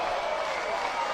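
Disc golf spectators applaud a made putt at the 2025 PDGA Pro World Championships, a steady, dense wash of clapping that fills the whole moment, with a commentator's voice over it.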